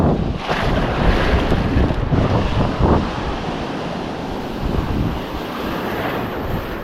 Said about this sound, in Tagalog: tumampas yung alon ng malakas